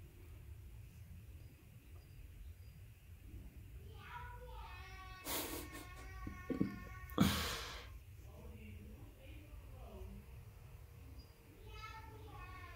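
A voice mimics a cat, giving several drawn-out meow-like calls over a quiet background, with a couple of louder squeals in the middle.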